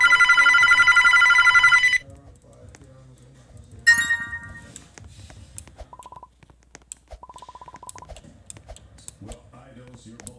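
A telephone rings loudly for about two seconds, then a short bell burst follows, with faint talk and a few softer electronic beep trains in between.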